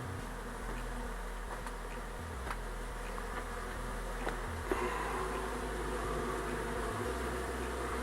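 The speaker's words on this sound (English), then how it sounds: "so we have a swarm in a box" A honeybee swarm held in a box hums with a continuous, dense buzzing, steady and fairly faint throughout, with a few brief louder passes.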